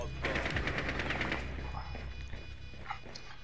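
Rapid automatic gunfire rattles in Rainbow Six Siege, a dense burst of shots for over a second, then a few scattered impacts and softer game sounds.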